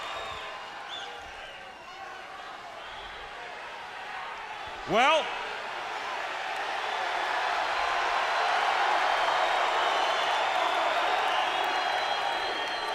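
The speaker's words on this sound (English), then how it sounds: "Listen to the reaction of this crowd" A wrestling arena crowd at WCW Monday Nitro, a broad roar that swells and builds steadily across the clip, with one sharp slam-like impact and an announcer's voice over it.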